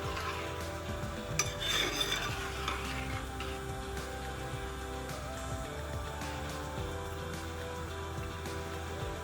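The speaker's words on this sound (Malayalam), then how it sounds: "ഒന്ന് ഇളക്കി യോജിപ്പിക്കാം" Payasam made with cherupayar parippu and coconut milk being stirred in a pot, a soft steady scraping and clinking of a spoon against the metal over faint background noise, with no talk.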